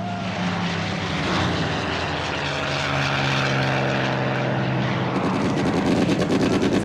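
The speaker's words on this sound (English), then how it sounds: "Maybe it was their planes." Propeller planes flying overhead in the war drama Band of Brothers, a loud sustained droning engine roar with a throbbing pulse that grows stronger toward the end, no voices.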